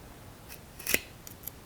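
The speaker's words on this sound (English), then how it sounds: "Now here's some 1/2 inch rope, guys. Will it cut through this?" A single sharp snip as a shop cutting tool bites through half-inch rope, with a few faint clicks of the blades before and after, close and otherwise quiet.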